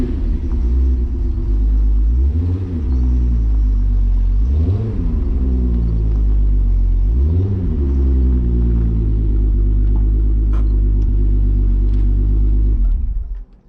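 A turbocharged VR6 wagon cruises along the road, its engine a loud, steady low drone inside the cabin, rising and falling through several gear changes roughly every few seconds before the sound cuts off at the end.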